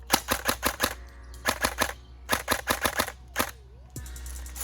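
Sharp, snappy pops from a Beretta ARX airsoft gun shooting BBs, fired in quick bursts of several shots with short gaps, close and crisp with a faint mechanical click near the end.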